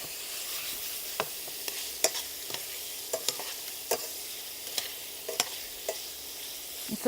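Prawns fry in an uncrowded pan with a steady, moderately quiet sizzle, broken by scattered sharp pops and spits throughout.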